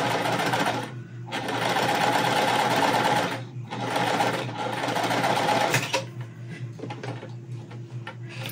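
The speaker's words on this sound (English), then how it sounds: "you can sew a piece of fabric, like scrap fabric first, called a leader" A sewing machine stitches a scrap fabric leader in fast, close, rattling runs, pausing briefly twice, then running slower and lighter toward the end.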